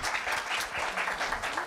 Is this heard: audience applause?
yes